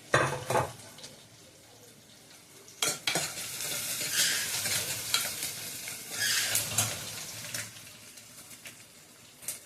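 Onions, chili and lentils fry in a pan while a spoon stirs them, making a soft continuous sizzle broken by several louder scraping, clattering stirs, with no voices.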